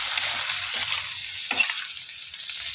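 Squid sizzles steadily in a hot pan for breakfast, a dense close crackle with a couple of brief stirring clatters partway through and no voices.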